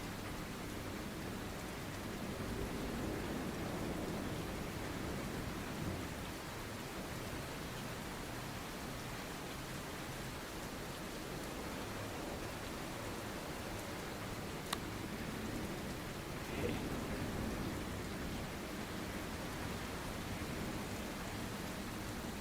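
Steady video game rain patters and hisses without a break, a soft even wash with a few faint clicks, no voices.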